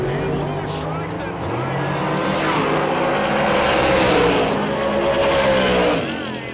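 Drag racing cars at a radial tire event launch off the line together, a loud sustained engine roar rising and holding before easing off, with a commentator's voice running over it.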